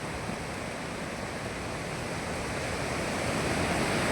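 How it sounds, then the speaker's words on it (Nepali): Swollen, flooding river rushing past stranded vehicles, a dense continuous roar of water, loud and steady, growing slightly stronger toward the end, no talk. "हामी त खोला बढेर फसे यहाँ"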